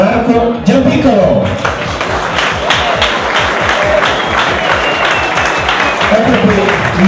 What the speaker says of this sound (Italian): Vi chiedo un grande applauso per Marco Giampiccolo.